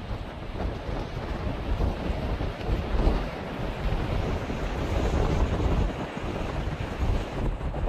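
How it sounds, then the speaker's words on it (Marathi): Sea waves wash in at low tide along the coast near Murud-Janjira fort, a continuous rough rush blended with wind buffeting the microphone, with no speech. "सध्या ओटीचा टाइम आहे, भरती नाही म्हणून लाटा कमी आहेत"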